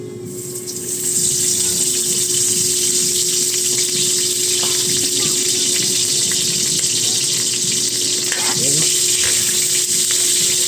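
Garlic sizzles in a dry pan before any oil goes in, a loud steady hiss that swells after the first second and carries on throughout, with occasional scraping and stirring clinks.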